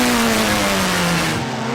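Race car lapping a track on the overrun into the last two corners, engine note falling steadily as it lifts off, loud and close and continuous throughout.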